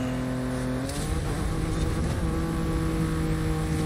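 Volkswagen Golf engine screaming at very high speed, around 260 km/h, in the Forza Horizon 5 racing game, a loud continuous drone with a gear change partway through.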